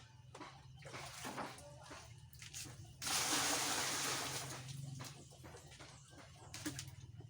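Cold water poured over a body during an early-morning bath in a rural Philippine home: a loud splashing gush of a scoopful of water, with quieter trickles and dripping around it and birds chirping faintly in the background.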